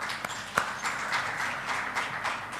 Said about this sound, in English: Ladies and gentlemen, huge round of applause.